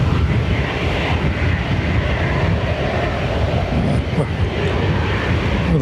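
A WestJet Boeing 737 jet airliner at Dublin Airport gives off a steady, loud broadband roar that holds for several seconds, with no other sound standing out.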